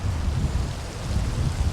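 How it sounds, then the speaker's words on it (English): Wind gusts and rain on a Loch Etive shoreline by Ardchattan Church while fishing, a steady low roaring rumble with broadband hiss, loud and continuous, no voices. "The wind's blasting with that rain"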